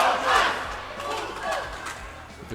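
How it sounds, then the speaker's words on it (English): A crowd at a junior world doubles final chants in rhythmic unison, a steady mass of voices swelling and falling in repeated phrases, loud and continuous across the whole stretch. "The crowd chanting, one more point, one more point."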